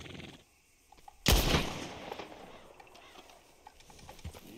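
A single sharp gunshot in Red Dead Redemption 2 cracks out loudly, followed by a lingering rumbling echo and faint game ambience.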